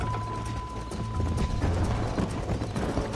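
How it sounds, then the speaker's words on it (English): A horse gallops in the video game Red Dead Redemption, with a fast, continuous drumming of hoofbeats under a dense rushing background. "Você tem que tomar cuidado pro cavalo não cansar rápido"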